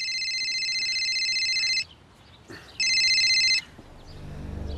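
A telephone rings in two electronic bursts separated by a short pause, loud and close in a quiet room, before the ringing stops.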